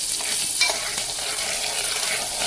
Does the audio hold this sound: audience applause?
no